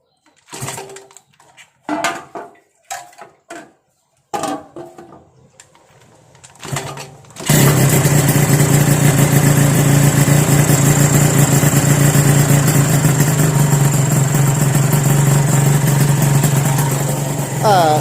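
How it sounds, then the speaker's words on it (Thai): A Yamaha VR motorcycle converted to TZR specification with a two-stroke engine: a few scattered knocks and clicks, then the engine fires and runs continuously with a loud, buzzing, close idle for about ten seconds. "เดี๋ยวมาฟังเสียงตอนมันทำงานกันดีกว่า ตอนติดเครื่องนะครับ"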